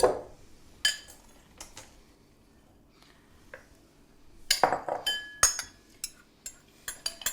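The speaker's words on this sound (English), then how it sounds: "we're going to take the whisk out and we're going to fold those in with the big spoon" Folding ground almonds, flour and lemon zest into a Bakewell tart mixture with a big spoon, heard as scattered clinks and scrapes of the spoon against the bowl, some sharp and close, with quiet gaps between.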